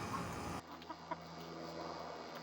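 Backyard hens cluck in a few short, soft bursts after one has just laid an egg, quiet and close over a steady background hum.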